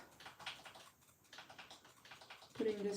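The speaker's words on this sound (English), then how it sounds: "If you guys hear aggressive typing in the background" Rapid, clattering keyboard typing comes in quick bursts with short pauses, fairly faint and a bit distant, with no one speaking.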